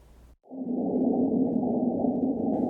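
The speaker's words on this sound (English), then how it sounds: "That's the sound of a Marsquake." After a brief pause, a low, sustained rumbling hum from a recorded Marsquake rises and holds steady, a deep droning tone with a faint hiss on top.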